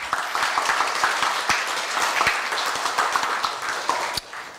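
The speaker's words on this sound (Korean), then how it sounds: "총장님께 다시 한번 큰 박수 부탁드립니다" An audience at a Korea University staff retirement ceremony applauds the university president, a full, steady round of clapping with sharp individual claps standing out, dropping briefly near the end before picking up again.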